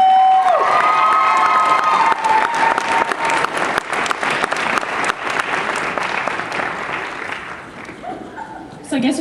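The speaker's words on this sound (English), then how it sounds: "A round of applause for all of them" An audience at the Katsucon 2014 cosplay event, a World Cosplay Summit qualifier, breaks into loud applause and cheering with shouts from the crowd. The clapping swells, then slowly fades, and a voice briefly comes through on a microphone near the end.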